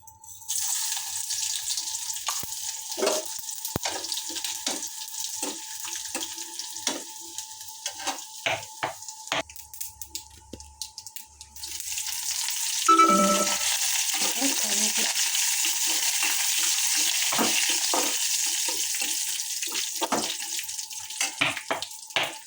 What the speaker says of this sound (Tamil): இங்கே வே கடுகு, உளுந்து, காஞ்ச மிளகா, பூண்டு இது எல்லாத்தையும் எண்ணெயில் போடணும்.